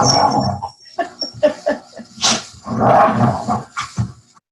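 A pet dog goes wild on a couch, growling and letting out bursts of barks in quick, uneven runs, close and loud.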